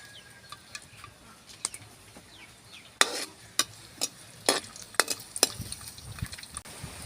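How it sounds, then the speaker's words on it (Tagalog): Garlic sautés in a pan, a soft, faint sizzle under sharp clicks and scrapes of stirring utensils that grow louder partway through, with no talk. "Magigisa po tayo ng bawang."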